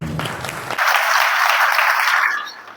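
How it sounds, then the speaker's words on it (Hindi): Audience applauding students in a Hindi-speaking social gathering, opening with brief talk and then a loud, dense wash of clapping that holds steady for about two seconds before thinning out. "अपने लिए ताली बजा लो।"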